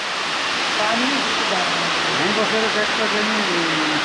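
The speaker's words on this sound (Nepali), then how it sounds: "50 मिटर अग्लो झर्ना" A 50-metre-high waterfall inside Nohak cave pours down as a constant, loud broadband rush, with a voice faintly audible beneath the roar.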